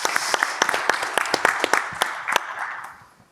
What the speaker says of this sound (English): Round of applause for Yago.